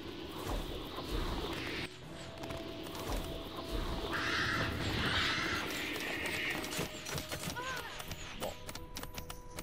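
A bird enemy in the video game Asterigos: Curse of the Stars gives harsh, crow-like cawing calls over busy game ambience and footstep-like clatter, with sharp effect sounds toward the end.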